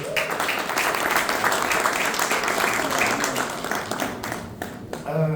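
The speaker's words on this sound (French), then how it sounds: "Maître Karen Aïba, sous vos acclamations s'il vous plaît." Audience applause at a French real-estate summit, sustained broadband clapping from a sizable crowd, loud and even throughout, with a presenter's voice edging in near the end.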